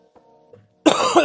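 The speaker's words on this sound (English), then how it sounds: "my cough's been getting gradually worse" A single person's cough, dry and raspy from a worsening cough, bursts out loud and close after near silence, with a faint throaty sound just before it.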